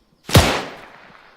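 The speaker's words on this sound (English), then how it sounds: "Will this nade get him?" A single grenade explosion in the video game Fortnite: a sharp, close blast with a heavy low thump that decays into a short rumbling tail.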